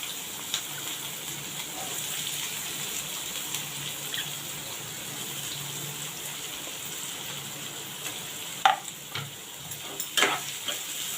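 Chopped onion sautéing in a pan for a simple Marathi-style padwal (snake gourd) vegetable, a steady soft sizzle with light watery hiss and a few sharp clinks near the end, with no voices.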